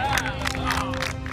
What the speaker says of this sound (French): J'aime ces émissions de télé-réalité où vous applaudissent pour un rien